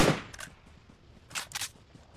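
Gunfire in the mobile battle royale game PUBG Mobile, a loud close shot at the start, then a pair of sharp bursts a second later, with quiet game ambience between.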